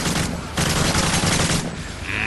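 Rapid AK-47 automatic fire from Call of Duty: Modern Warfare 3 survival mode, a loud, dense burst of shots filling the whole moment with only brief dips between volleys.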